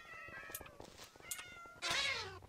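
Several Minecraft cats meow in quick succession, overlapping high mews with one louder, drawn-out meow near the end, clear and close with no talk.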